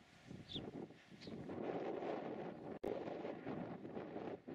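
Wind blows steadily across the microphone outdoors at Paluel, Seine-Maritime, a soft rushing buffet with a faint chirp early on.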